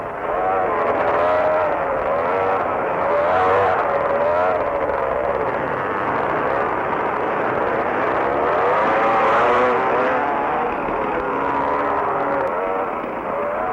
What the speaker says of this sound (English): The bigger bikes come off the jumps a lot faster and go much further.